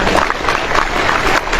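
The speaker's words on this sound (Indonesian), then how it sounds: "sekali lagi tepuk tangan untuk para santri" An audience at an Islamic gathering applauding the santri, a dense, steady wash of clapping from many hands, loud and continuous throughout.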